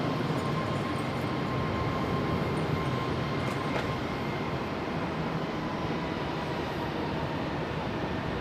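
Steady broadband jet roar from an airliner taking off at Charlotte Douglas International Airport, heard from a plane-spotting spot at some distance, a continuous rumble with a faint tonal whine holding level throughout, no voices.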